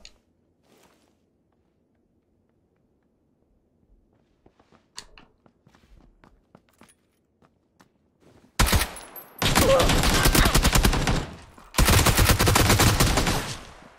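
Two loud bursts of automatic gunfire in PUBG on Vikendi, each lasting a couple of seconds and very close, following quiet scattered footsteps and small clicks.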